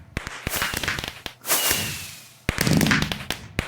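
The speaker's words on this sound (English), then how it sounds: "indoor fireworks" Fireworks in the Minecraft modpack Sky Factory crackle and pop in quick, sharp bursts, with a whooshing launch in the middle, all fairly close and with no talking.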